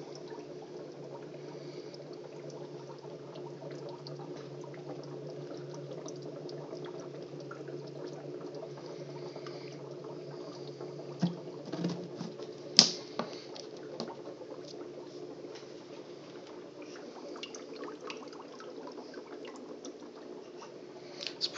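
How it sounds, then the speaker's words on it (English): An aquarium air bubbler churns the water in a fogponics bucket, giving a faint, steady bubbling hum throughout with a few small splashy ticks near the middle. "the bubbler. You know, it keeps the water churning, keeps it oxygenated a little bit"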